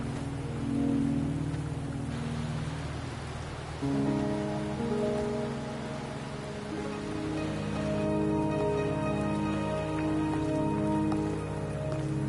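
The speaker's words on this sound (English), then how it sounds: "Are you trapped here by the rain?" Rain falls in the video game Wuthering Waves, a soft steady patter spread evenly across the scene, mixed with sustained musical tones and a gentle game soundtrack underneath, no speech.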